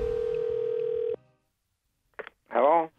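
Telephone call being placed: a steady dial tone hums for about a second and cuts off, then after a short silence a voice speaks, all close and fairly loud.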